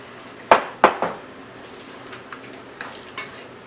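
Beef and stock going into a pot for groundnut soup: three sharp metallic clanks of utensil on pot up close, followed by softer scattered clinks and scraping.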